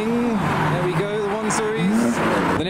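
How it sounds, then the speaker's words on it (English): A car at a car meet spinning one wheel with tire squeal, its engine note rising and falling in sweeping revs over a steady crowd hum, with people talking nearby. "Here comes something with one wheel's peeling."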